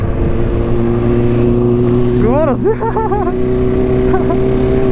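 A newly bought motorcycle's engine drones steadily up close, with a wavering higher-pitched whine rising and falling briefly midway; a voice speaks over the engine.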